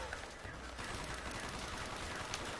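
Rapid gunfire in Black Ops Zombies on the Shi No Numa map, a dense continuous burst of shots that is fairly faint and fills the whole stretch with a crackling, rattling texture.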